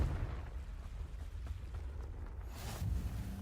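A Confringo blasting spell in the Hogwarts Legacy video game erupts in a loud, rumbling burst that swells and flares near the end, heavy low boom under a hissing crackle, with no one talking.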